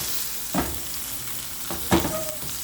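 Meat sears in a pot for a pot roast: a steady sizzling hiss throughout, broken by two louder scraping stirs, close up and without talk.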